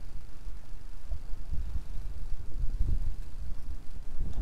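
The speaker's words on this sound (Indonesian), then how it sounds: "Aduh, angin ini, bro." Wind gusts buffet the microphone at the Pancer river estuary in Puger during a fishing trip, a continuous low rumbling roar that swells and dips throughout with no talk.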